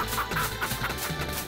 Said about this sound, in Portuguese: Olha as galinhas aí, ó.